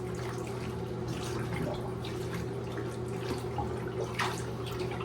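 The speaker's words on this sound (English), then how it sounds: "put your Rikusenfuku into the basin and give it a slosh" A dyed Rikusenfuku garment is sloshed and rubbed in a basin of dye water, with soft liquid splashes and drips over a steady low hum, close and fairly quiet.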